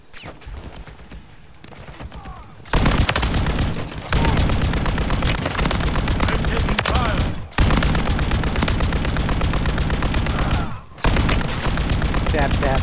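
Grenade explosion amid sustained gunfire in a first-person video game, loud and close: dense rapid shots run almost continuously, broken by a few heavy bursts and short pauses.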